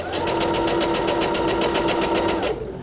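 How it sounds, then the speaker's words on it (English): An EverSewn Sparrow X2 sewing machine stitches at a fast, even pace, its rapid mechanical chatter and motor hum close and loud for nearly three seconds before stopping, with no talking. "then I put my presser foot down, and now I'm going to sew"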